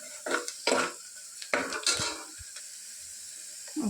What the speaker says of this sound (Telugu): ఆనియన్స్ మంచి గోల్డెన్ బ్రౌన్ కలర్లో రావాలి అప్పుడు వరకు దీన్ని ఫ్రై చేసుకోవాలి